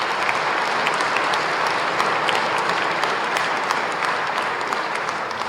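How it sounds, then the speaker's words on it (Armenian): An audience breaks into sustained, even applause in thanks, a thick wash of many hands clapping at a steady level throughout, with no speech over it. "Եկեք բոլորին մեր ծափերով մեր շնորհակալություն ասենք։"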